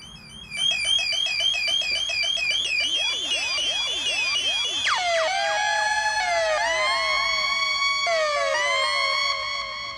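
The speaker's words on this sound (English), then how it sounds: "it makes, makes siren sounds, but you can control it" A homemade dub siren synth built around a 555 timer, loud electronic sweeping siren tones that rise and fall, shifting in speed and pitch across repeated swoops, sounding alone.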